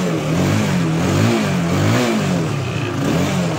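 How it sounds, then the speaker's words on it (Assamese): A second-hand TVS Apache motorcycle idles close by, its engine running with a rough mechanical clatter and rising and falling in a few gentle revs. "এইখন চাওক আপাচিখন ষ্টাৰ্টতে আছে"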